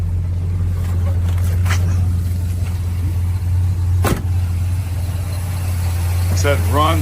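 Plymouth Road Runner muscle car engine running with a steady, loud low rumble throughout, a brief sharp transient near the middle and voices talking over it toward the end.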